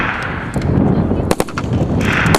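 Sharp gunshots crack out in a couple of quick bursts at an outdoor shooting range during student firearms training, over steady background noise, fairly close, with loud broadband bangs around the middle.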